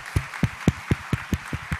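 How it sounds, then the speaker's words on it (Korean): Congregation clapping in church at a Korean Wednesday evening service, a brisk run of eight sharp, evenly spaced claps over a soft room background, moderately close and clear. "그럼 우리 하나님께 한번 감사 박수 해야 되지 않겠어요?"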